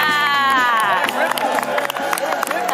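A large expo crowd at the D23 Expo fills the space with continuous noisy clapping and babble, steady and dense throughout, with scattered voices and a few shouts mixed into the applause.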